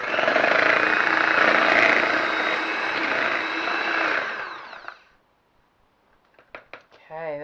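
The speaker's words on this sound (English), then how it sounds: "I'm going to whisk this with a electric whisk" An electric whisk mixes chocolate custard in a bowl, a loud steady motor whir lasting about four seconds before spinning down into quiet, followed by a few brief knocks and clatters.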